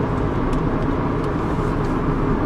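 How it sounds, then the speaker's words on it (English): Steady broadband road and tire roar from a Toyota Supra JZA80 on low-profile tires, cruising at highway speed, continuous and fairly loud with no talk. "I'm definitely getting a bit of road noise here"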